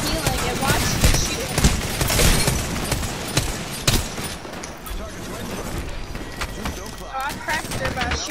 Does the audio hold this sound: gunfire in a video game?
yes